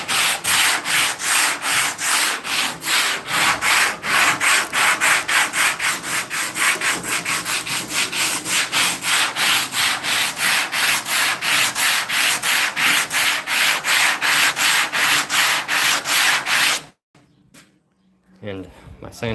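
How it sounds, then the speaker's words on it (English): Rhythmic back-and-forth sanding strokes rasp loudly and close as car fender bodywork is blocked out with 80 grit sandpaper, dozens of even passes in steady rhythm before stopping abruptly, with brief quieter scuffing afterward. "Fun part is blocking this out with 80 grit when I'm done."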